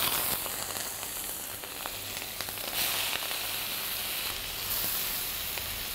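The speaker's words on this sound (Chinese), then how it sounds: "我们用它来炒虾壳，" Shrimp shells stir-fry in hot oil to render shrimp oil, giving a steady, dense sizzle with faint crackles throughout and no talk.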